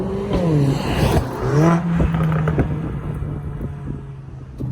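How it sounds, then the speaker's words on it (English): Mercedes-AMG A45S hatchback engine revving with crackling exhaust pops from the factory setup, a loud close rev sweep followed by a steady drone and several sharp pops and crackles. "this car come from factory already got pop"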